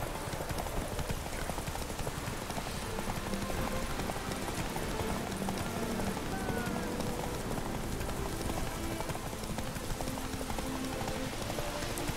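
Rapid, rhythmic clip-clop of horse hooves at a steady gallop in The Witcher 3: Wild Hunt, continuous and fairly close, set against a busy game soundscape.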